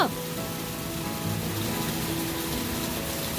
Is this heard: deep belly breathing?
no